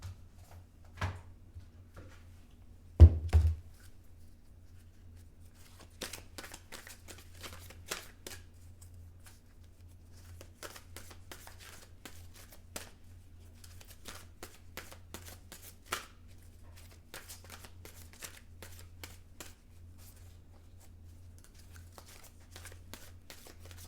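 Psychic reading cards are shuffled close by: soft, repeated riffling and flicking of the deck with a brief louder knock near the start and a low hum underneath.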